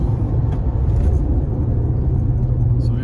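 A Skoda Slavia car pulling hard and picking up speed on the road, a steady loud low engine and road rumble filling the whole stretch with no pause.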